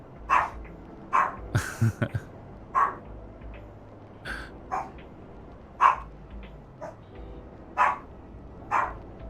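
A Shih Tzu barks repeatedly in short, sharp bursts close by indoors, with irregular gaps and a quick flurry of yips in the middle, standing alone without talk.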